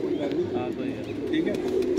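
Cooing of a domestic high-flyer pigeon kept at a home loft, a low, steady throaty murmur running continuously through the clip, close and moderately loud with light background noise.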